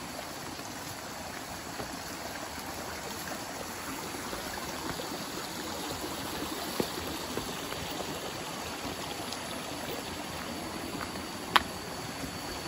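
A mountain river flows in a steady, soft rush of water that holds even throughout, with faint clicks and no talking.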